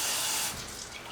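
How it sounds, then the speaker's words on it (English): Tap water pours into a jar of soaking vegetable and bean sprouts in a brief, close, steady splashing stream that softens slightly toward the end, with no voices present. "Then you add more water to it."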